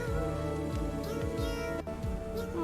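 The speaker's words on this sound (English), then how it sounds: "A little kitten all alone?" A small kitten, alone and out in the rain, gives several short, repeated plaintive meows close by, over a constant wash of rainfall and background music.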